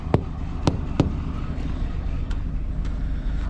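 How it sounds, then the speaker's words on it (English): A handful of sharp taps strike a Kenworth grain truck's tires outdoors, three quick solid knocks close together followed by fainter ones, over a steady low engine and wind rumble. "you tap on all of them. And you're listening for that really solid thud sound"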